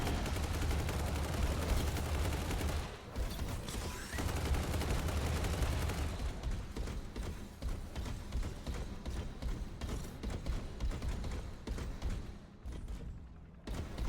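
Rapid bursts of gunfire from an enemy mech in Hawken Reborn rattle in dense, continuous volleys, fairly loud and steady before thinning into choppier bursts toward the end.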